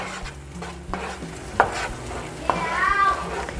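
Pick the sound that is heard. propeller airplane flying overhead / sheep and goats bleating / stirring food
stirring food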